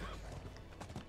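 Horse hooves clip-clopping in the video game Diablo 4, a short run of close, steady hoofbeats over a constant game background, with no speech over them.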